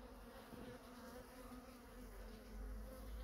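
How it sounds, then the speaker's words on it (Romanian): Honeybees flying around their hive on a mild February day, a steady dense buzzing hum of many insects close by, rising a little toward the end with no speech. "Deci, albinele au un zbor frumos"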